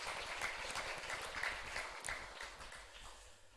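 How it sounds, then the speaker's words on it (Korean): A church congregation applauds steadily during a Sunday service, a dense wash of clapping at moderate distance that gradually thins toward the end. "우리 다시 한번 박수로 격려하겠습니다."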